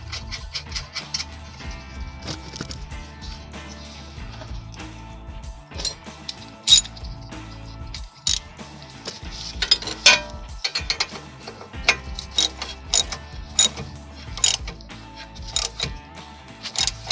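Hand ratchet clicking in bursts while a castle nut is tightened onto an outer tie rod, the pawl ticking close up with pauses and a few sharper metallic clanks in between; no talking.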